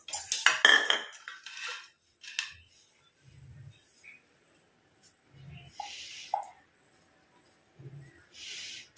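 A spoon scrapes and clinks against a bowl while hair dye is moved into another bowl, a few bright metallic taps and scrapes spread through a quiet stretch with soft low knocks between.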